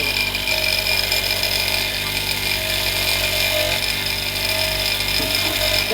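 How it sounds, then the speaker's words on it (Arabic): An electric motor spins a wire brush in a steady, continuous whine with a bright metallic hiss, unchanging in level throughout with no pauses. "هنشغله برضه فرشة سلك زي كده، وبحط تحته حتة جلد بقى"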